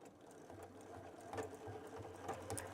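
A Baby Lock sewing machine runs steadily as it stitches a French seam on a tote bag, a close, continuous mechanical whir with a rhythmic needle patter and no talking.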